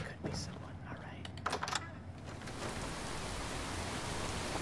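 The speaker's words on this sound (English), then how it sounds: "So, it's raining" Steady rain falling in the Fallout 4 video game, a soft hiss of noise that becomes continuous and even after a few faint scattered sounds and low murmurs at the start, quiet overall.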